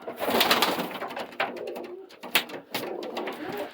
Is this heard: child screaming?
no